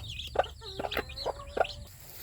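A hen clucks in short repeated notes, mixed with high thin peeps from chicks, close by and moderately loud.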